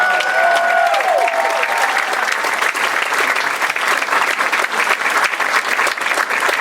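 Sustained audience applause at a volunteer gala, dense and steady clapping from a large room for the full stretch, with a brief tonal whoop or voice near the start.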